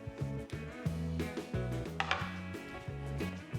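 A knife chops walnuts on a cutting board that slides about without a towel underneath, giving rapid, rhythmic thuds and knocks a few times per second, close and distinct.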